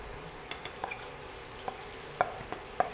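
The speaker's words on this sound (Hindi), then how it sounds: "इन आलू को भी इसके अंदर अच्छे से मिक्स कर देंगे" Mashed potatoes being stirred into sautéed vegetables in a pan, for aloo tikki filling, giving a few soft scraping and clinking spoon strokes over a faint, low sizzle, close and quiet with no talk.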